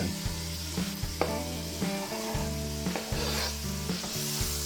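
Vegetables sauteing in olive oil give a continuous, steady sizzle, with repeated stirring and scraping strokes in an even rhythm. The sound is close and fairly loud, and no one talks.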